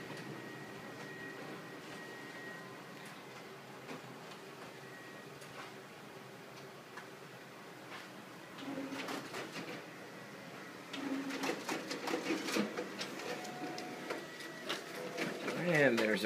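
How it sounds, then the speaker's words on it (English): Ricoh MP C2500 colour multifunction copier running, with ticking and clicking mechanical feed noises that grow louder and busier toward the end as pages pass through and the finisher staples, under talking throughout. "We'll also test the stapling on the finisher."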